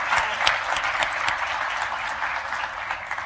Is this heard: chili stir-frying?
no